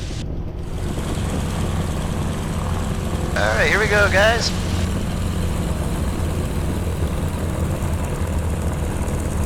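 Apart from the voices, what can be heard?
T6 propeller aircraft engine taxiing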